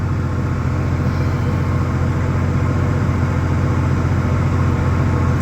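The oil cooler fan on a Porsche 993 blows in a constant, loud, unbroken whoosh with a low hum beneath, heard from inside the parked car and with no one speaking.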